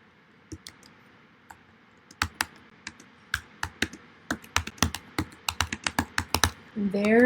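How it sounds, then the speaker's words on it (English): Keyboard typing for a digital scrapbook page: a run of sharp, close key clicks that starts sparse and quickens into a rapid burst, over faint room hiss, ending on a brief louder sound. "there's my typing"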